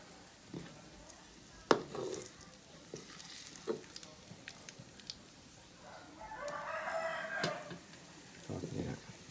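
Soft sizzling of meat frying in a pan, with scattered clinks and stirring, a louder burst of sizzle partway through.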